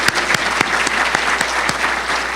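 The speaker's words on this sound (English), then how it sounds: "I want us all give this whole committee a big round of applause" A room applauds the organising committee at a mental health summit, brisk steady clapping with a few sharp individual claps standing out, sustained and fairly loud.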